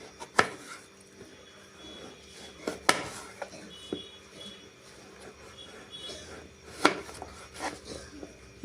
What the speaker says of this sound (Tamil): தொக்குன்றதுனால நம்ம மெலிசா கட் பண்ணிக்க போறோம்